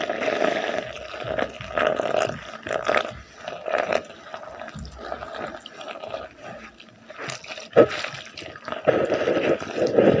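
Water is added to flour while dough is kneaded by hand, producing soft wet squelching, dripping and slapping sounds at close range, uneven and fairly quiet.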